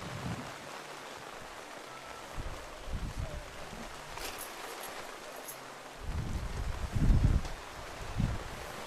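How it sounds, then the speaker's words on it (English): Wind gusts push into a tent through a south-facing opening at an outdoor race event, rustling and flapping the fabric, strongest near the end. "And here comes the wind."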